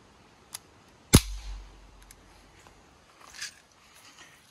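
A BB gun fires into layered cardboard, a single sharp close crack with a short thud of impact, surrounded by faint handling noises in an otherwise quiet setting.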